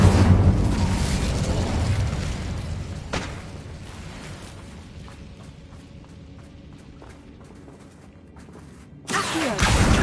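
An Incendio fire spell from Hogwarts Legacy erupts in a heavy, rumbling blast that fades out over several seconds, followed by a second burst near the end, with no talking over it.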